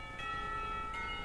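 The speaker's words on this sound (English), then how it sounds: "As soon as the lunch bell rings, I'm on my way to Hanako's desk" School lunch bell from the visual novel Katawa Shoujo, a steady sustained ringing tone with bright overtones that holds through the short moment, fairly faint, with no voices.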